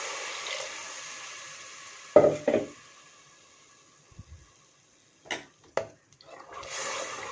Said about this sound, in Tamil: புளி தண்ணி ஊற்றிட்டு நல்லா கலந்துக்குங்க.